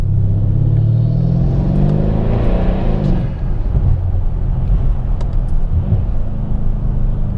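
A Mercedes-Benz W212 E63 AMG drives with its engine rumbling and revving up. The turbo whooshes through black boost intakes, and the rising drone settles into a deep, steady rumble as the car cruises close up.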